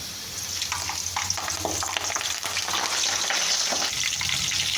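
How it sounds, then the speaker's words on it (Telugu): Steady loud sizzling of curry leaves hitting hot oil, crackling and spitting continuously with faint clinks of stirring. "దీంట్లోకి అయితే కొద్దిగా కరివేపాకు అయితే వేసేసుకుంటున్నాను."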